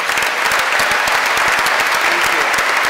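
Audience at a graduation ceremony applauding, a dense, loud burst of clapping from many hands that holds steady throughout, with no talking over it.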